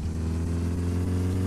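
Car engine in the video game My Summer Car during a rally, a loud steady mid-pitched drone as the car accelerates, heard close and alone with no talk.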